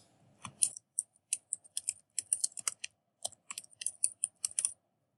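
Someone types on a computer keyboard while entering a title in a Word document. A quick series of crisp, close key clicks comes in short uneven runs with brief gaps, fairly quiet, with no talk.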